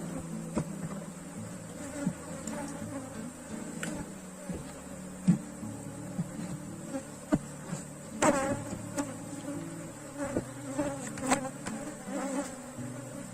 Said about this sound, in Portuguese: Colocar aqui a tampa para o enxame ficar mais calmo, porque ele está muito agressivo.